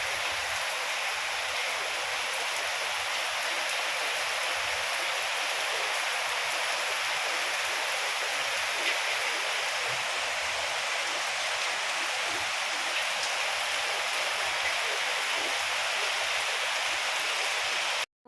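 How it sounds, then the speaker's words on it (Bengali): Heavy rain pours steadily and loudly for the whole stretch, a dense, even hiss of downpour on surfaces around a house with no lulls and no voices. "দেখো ঝমঝম করে বৃষ্টি করছে"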